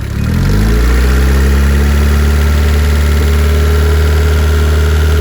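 A car engine runs steadily near 2,000 RPM after climbing from a lower idle in the first half second, a loud, close, continuous hum with strong low harmonics and no talk.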